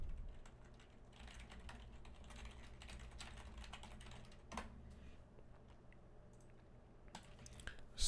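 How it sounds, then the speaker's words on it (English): Typing on a computer keyboard during a livestreamed SAT math practice session, a steady run of quick, soft key clicks close to the microphone with a few brief pauses, no voice. "I'll type it in one more time."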